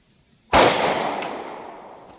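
A single shot from a short-barrel 9mm pistol firing a 115 grain Nosler ASP round: one loud, sudden crack that decays into a long echoing tail, with no talking.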